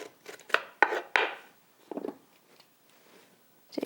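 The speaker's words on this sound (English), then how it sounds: "I'm just using a spoon to take out some of those seeds." A spoon scrapes seeds out of a halved cucumber in several short, close, crisp bursts with brief pauses between them, and no talking.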